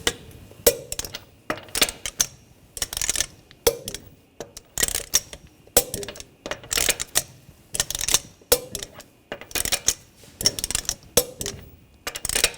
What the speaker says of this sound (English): Now we're going to torque the lug nuts to 83 foot-pounds in a cross pattern to tighten the wheel down